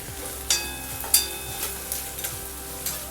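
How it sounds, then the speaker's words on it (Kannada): Onions frying in oil for vegetable fried rice, a close crackling sizzle broken by several sharp spatula scrapes and stirs at an uneven pace, with no voices. "ನಾವಿಲ್ಲಿ ಈರುಳ್ಳಿನ ಹಾಕ್ಕೊತಾ ಇದ್ದೀವಿ ಇದನ್ನು ಚೆನ್ನಾಗಿ ಫ್ರೈ ಆಗಲಿ"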